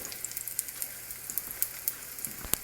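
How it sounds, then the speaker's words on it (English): King crab cakes frying in olive oil in a pan, a light continuous sizzle with scattered sharp pops and crackles spread irregularly throughout, close up and with no talking. "pan here with some olive oil, and we're just going to give this a little fry on both sides"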